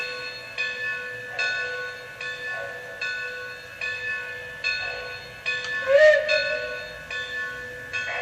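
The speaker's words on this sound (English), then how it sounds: "Now let's listen to what the bell does with the crew talk sounds." A locomotive bell on a railfan train rings steadily and repeatedly, with sustained tonal strikes at regular intervals, loud and close, with no talk over it.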